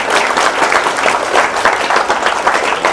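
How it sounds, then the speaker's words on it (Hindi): A festival audience applauds the judges with sustained, dense clapping from a large crowd, steady and loud throughout. "मैं ये चाहूंगा कि एक बार जोरदार तालियां आज के सारे जजेस के लिए"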